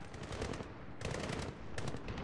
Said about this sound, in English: Hear that? That is an AK fire.